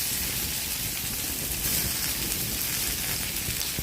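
Onion frying with garlic, ginger, coriander and curry leaves in hot oil, giving a steady dense sizzle and hiss that runs unbroken and fairly loud, close up, with no voices.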